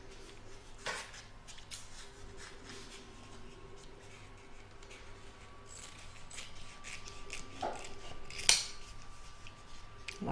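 Scissors trimming tape on embroidery vinyl, giving faint scattered snips and rubbing rustles over a quiet hum, with one sharper clip near the end and no talking.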